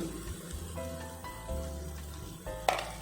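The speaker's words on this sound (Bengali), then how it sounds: "এটা দিয়ে আরও এক থেকে দু মিনিট হালকা করে কিন্তু আমি কষিয়ে নেবো" Ground spice masala of red chili, cumin, coriander and turmeric frying in oil for katla fish kalia, a close, steady sizzle with intermittent stirring and a sharp clatter near the end.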